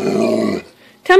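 A puppy lets out a close, loud, throaty growling vocalization lasting about half a second, then a short pause and the start of a higher, whiny yip, with no talking.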